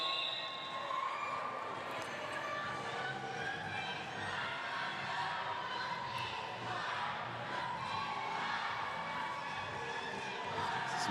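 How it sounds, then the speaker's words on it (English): A large crowd at a roller derby grand final between Dead End Derby and Sunset roars and cheers steadily in an arena, a continuous wash of voices urging on a skater. "And the crowd letting her know, get back on track, you go, girl."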